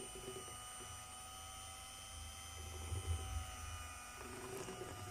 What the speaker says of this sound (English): He kept mixing.